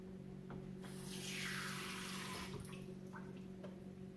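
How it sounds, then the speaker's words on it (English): Water runs from a kitchen faucet while brownies are being baked, a soft rushing stream that swells for about two seconds and then tapers off in an otherwise quiet room. "I'm gonna get the water."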